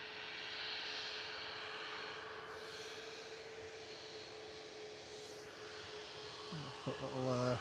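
A Ryanair Boeing 737 Max 8 jet airliner at Liverpool Airport gives a steady, loud broadband roar throughout, with a brief voice-like sound near the end.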